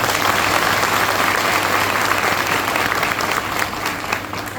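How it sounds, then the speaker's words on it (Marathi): An audience applauds Nikhil Chandan with strong, steady clapping that stays loud throughout and eases slightly near the end. "निखिल चंदन सरांसाठी एक जोरदार टाळ्या झाल्या पाहिजे"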